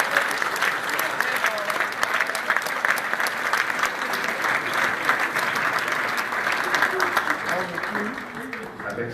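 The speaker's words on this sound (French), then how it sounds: "Vous pouvez m'applaudir, hein?" An audience at an awards ceremony applauds continuously, a thick, even roll of many hands clapping that holds steady from start to finish, with faint crowd murmur beneath.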